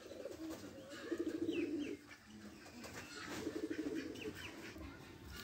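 Jalali pigeons coo in two soft, rolling bursts among faint chirps, with light background noise and no talk.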